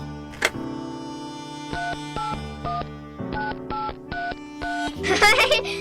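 A telephone keypad sends a quick run of dialing tones, about eight or nine steady beeps with short gaps, close and clear. A sharp click comes just before them and a brief noisy burst follows the last beep.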